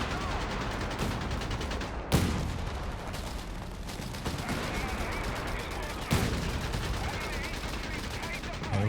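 Gunfire bursts from Company of Heroes 3 combat, with sharp loud cracks near 2 and 6 seconds over a dense rattle of shooting and battle noise throughout.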